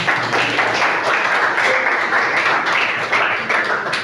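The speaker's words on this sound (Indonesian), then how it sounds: "Oke, tepuk tangan buat kita semua, keren" A group of teachers and students claps together at a school positive-culture dissemination session, a brisk, fairly loud patter of many hands sustained for several seconds.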